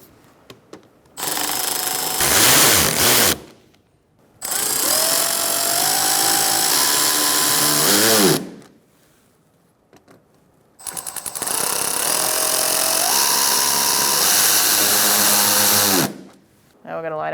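Power drill driving screws into a plastic inner fender liner on a 2013-2022 Buick Encore, three loud, sustained bursts of whirring with rising pitch as each screw tightens, separated by short pauses.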